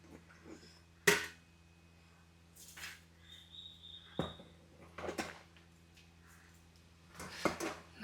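Cooked puttu is scooped out of a pot with a utensil, giving a few sharp metallic knocks and scrapes spread out over quiet pauses, one clank especially loud near the start.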